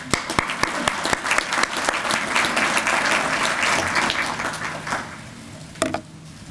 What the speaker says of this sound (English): So I think Denise deserves a round of applause